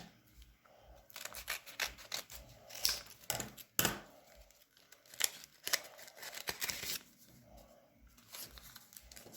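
A parcel package is opened up close, with crisp snips, rips and crinkling of packaging in scattered bursts and a sharp snap near the middle, while someone speaks quietly now and then.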